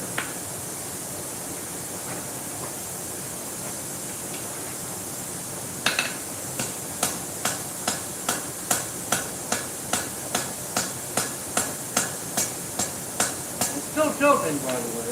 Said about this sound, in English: I'm going to switch to a smaller hammer.